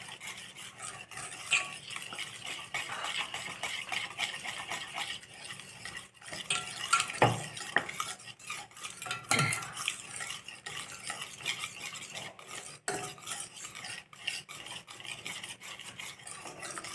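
A steady scraping and stirring in a pan as ghee is stirred for wheat halwa, a utensil rubbing continuously against metal with occasional sharper clinks.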